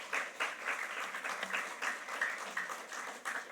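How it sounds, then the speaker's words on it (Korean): A church congregation claps during a Korean intergenerational worship service, a dense, steady round of applause that swells slightly in pulses and carries on without any voices over it. "저한테 박수 치시는 건 아니죠?"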